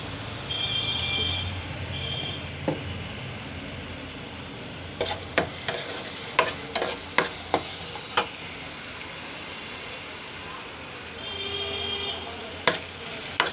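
Mutton pieces fry in a little oil for a mutton curry, giving a steady, faint sizzle with a run of sharp stirring clicks and scrapes in the middle and end, close by and with no talking.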